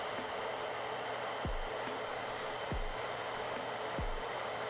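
A steady, loud video-game hair dryer blows continuously with a rushing hiss, accompanied by low thumps that repeat at regular intervals of roughly a second.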